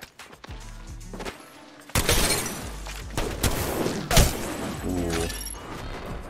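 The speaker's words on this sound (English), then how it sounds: "I'm taking shots." Gunfire in a video game, with the player under fire: dense bursts of shots and impacts, loud and close, with a sharp peak near the middle and a player voice heard briefly.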